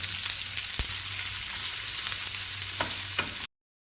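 Modak sizzles and fries steadily as it is stirred into a tempering of sesame oil, urad dal, mustard seeds, dried red chillies and curry leaves. The dense, continuous crackle holds close and loud, broken by a couple of stirring knocks before it cuts off abruptly.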